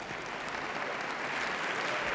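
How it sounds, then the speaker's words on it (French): A hall audience at a youth debate tournament final applauds themselves, a continuous soft patter of many hands clapping, even and somewhat distant throughout. "Vous pouvez vous applaudir."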